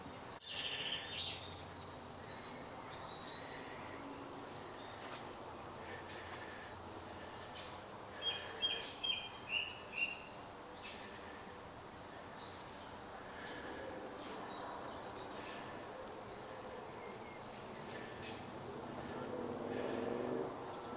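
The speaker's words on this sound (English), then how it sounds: "Some lovely bird song." Birds chirp and sing intermittently outdoors at the site of the 1265 Battle of Evesham, faint against a low background rumble, with a short run of repeated notes midway.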